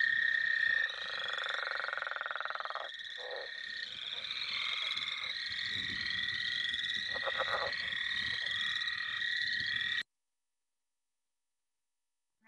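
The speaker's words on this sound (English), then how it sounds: "And the last one was the northern leopard frog." Northern leopard frog calls in a wetland, a long chorus of rattling croaks and snoring pulses with other frogs trilling behind, cutting to silence near the end.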